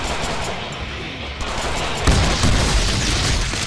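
Enemies exploding in the Deadpool video game, heard as a rapid string of booming blasts and gunfire-like bursts that swell louder partway through, with no talking.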